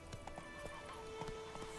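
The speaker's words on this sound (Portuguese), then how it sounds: "Esse não é meu cavalo, né?" Horse hooves clip-clop at a steady trot in The Witcher 3, faint and rhythmic beneath the game's ambient sound.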